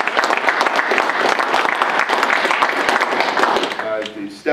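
An audience at a press conference for a sponsored event applauds in a full, dense burst. Voices mix in, and the clapping fades as speech takes over at the end.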